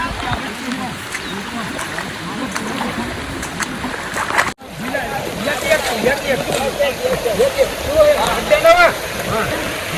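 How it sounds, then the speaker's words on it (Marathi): A stream swollen by a sudden flood, its water rushing loudly and continuously nearby, with a voice talking over it throughout. "तर बघू शकता पाणी पा कसं वाहत आहे"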